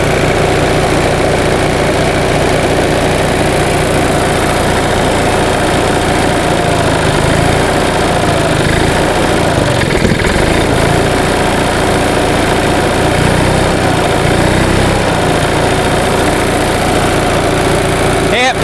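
A 1945 Onan generator engine runs steadily under full load, a loud, continuous droning hum with constant vibration throughout, its governor failing to return it to its set speed.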